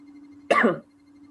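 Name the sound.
cough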